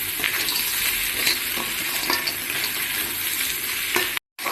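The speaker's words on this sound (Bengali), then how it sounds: "এখন আমি কাঁকড়াগুলো এর মধ্যে দিয়ে দেবো, আর একটু ভালো করে কষিয়ে নেব।" Crabs and potatoes stir-fry in a pan with a continuous loud sizzle and occasional stirring scrapes, cut off by a brief silent gap near the end.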